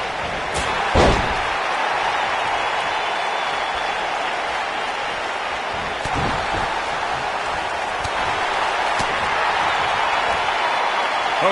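A wrestler is slammed hard onto the ring mat at a 2019 WWE event, giving a sharp thud that rises briefly over a constant loud arena crowd roar, with a few more impacts later.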